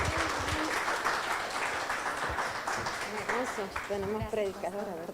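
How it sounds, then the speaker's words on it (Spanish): A church congregation claps together in a crowd, with steady applause running under a preacher's voice and some cheering voices. "Dele un aplauso fuerte al Señor."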